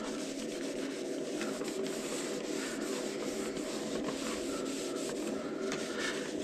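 Steady close-up rubbing of a Fast Stik glide-on wax bar across a ski base, a continuous dry scraping friction with a constant level throughout and no pauses.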